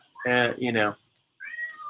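A cat meows twice in quick succession, loud and close, with long drawn-out voiced cries, then gives a softer, higher call after a brief pause.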